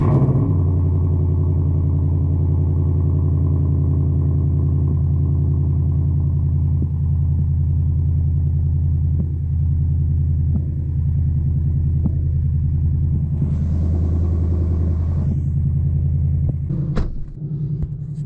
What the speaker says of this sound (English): I will start the car so it can warm up